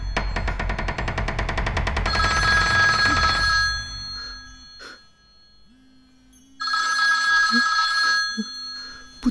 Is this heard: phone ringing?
yes